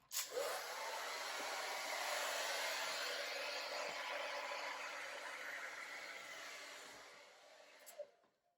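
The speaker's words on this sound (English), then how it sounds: "So I'm going to use the hairdryer one more time" A hair dryer blows steadily at close range over wet acrylic pour paint, a continuous broadband whoosh that holds for several seconds before cutting off with a brief click.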